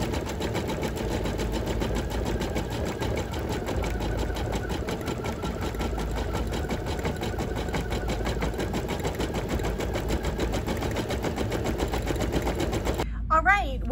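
A home embroidery machine stitching out one thread color of a design, giving a steady, rapid mechanical whirring and ticking that runs without a break and stops abruptly near the end.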